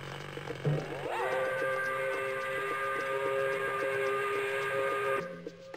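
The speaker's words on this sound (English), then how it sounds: "Let's blow the whistle." A factory quitting-time steam whistle in the Pajama Sam 3 video game shrills loud and steady for about four seconds after a short rising onset, over a faint background hum.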